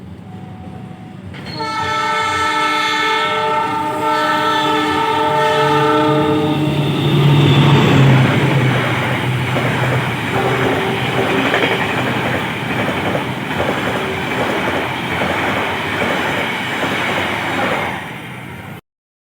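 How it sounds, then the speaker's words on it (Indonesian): Ranggajati passenger train passing on an Indonesian line sounds a long, loud, sustained horn, which gives way to steady rolling rail clatter that continues close and strong to the end. "Nah, S35 dari kereta api Ranggajati sudah terdengar."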